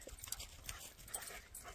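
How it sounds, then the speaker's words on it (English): Dogs whimper and pant in quick, soft bursts close by, over a steady low background hiss with no clear talk. "Here come the dogs."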